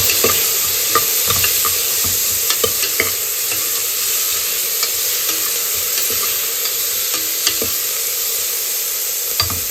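Onions and tomatoes fry in oil with a steady bright sizzle while a utensil stirs them, giving scattered scraping clicks throughout; close, continuous and fairly loud with no talking.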